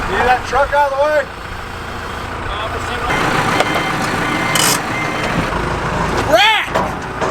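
A truck drives past on a farm during corn cleanup, its engine rumble swelling through the middle of the clip while people shout over it and a whistle-like squeal cuts in near the end.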